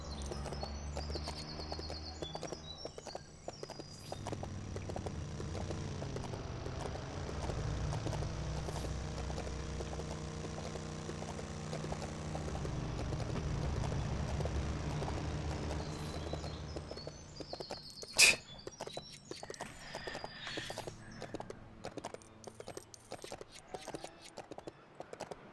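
Horse hooves clip-clop steadily in LEGO City Undercover, a continuous gait over game music and ambient sound, with a sharp brief click near the end.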